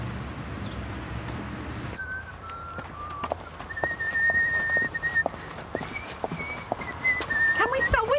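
A person whistles a tune in a TV drama scene, a clear wavering melody over footsteps and outdoor ambience, growing more continuous toward the end.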